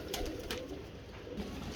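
A pigeon coos softly close by while birds are being handled and shown, a short low murmur with faint rustling around it.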